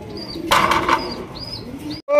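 Big, A-grade beauty pigeons flap their wings in a sudden loud burst for about half a second, set against a quieter background of faint bird calls and soft coos.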